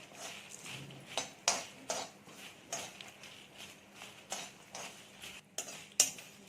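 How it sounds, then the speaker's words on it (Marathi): Whole spices and white sesame seeds dry-roast in a pan over low heat without oil, stirred with a spoon that knocks and scrapes against the metal in irregular, fairly close clinks and taps. "आता आपण हे सर्व खडे मसाले तेल न घालताच एक दोन मिनटं परतून घ्यायचं आहे"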